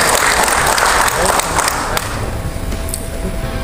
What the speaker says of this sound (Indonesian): Sekali lagi berikan tepuk tangan yang meriah untuk Ketua Umum kita